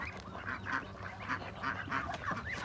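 Ducks being fed mango quack and honk in a rapid, repeated chorus of nasal calls, loud and close, with several birds overlapping.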